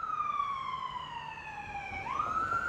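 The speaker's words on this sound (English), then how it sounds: "Sirens." Single emergency vehicle siren wailing steadily, its pitch sliding down and then sweeping back up, heard faint and distant with no talk over it.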